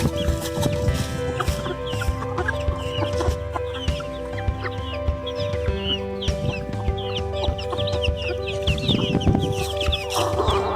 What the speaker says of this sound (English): Okay, chickens. We're gonna give you your food now.